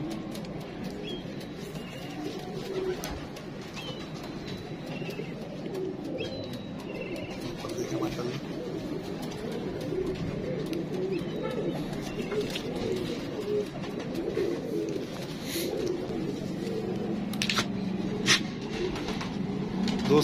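Prince Kamgar pigeons coo continuously at close range, a low rolling murmur with occasional sharper calls, and faint human voices sit in the background.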